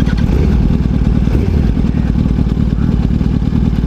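A motorcycle engine that is not running right, idling and revving unevenly with inconsistent RPMs, loud and close with a continuous rough clatter and no voices over it.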